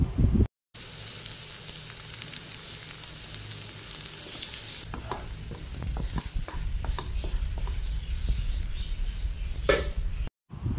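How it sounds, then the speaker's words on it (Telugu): Ivy gourds and turmeric sizzle and fry in an oil-filled pan for a chutney, a steady close hiss that keeps going, with scattered stirring clicks and scrapes through the second half. "దొండకాయలు, పసుపు వేసి కొంచెం సేపు వేగనివ్వండి."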